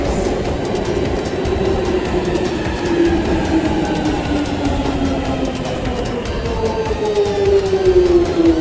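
A London Underground Jubilee line train running between Finchley Road and Canary Wharf, a loud steady roar with rising and falling motor whine and rail rumble heard close from inside the carriage.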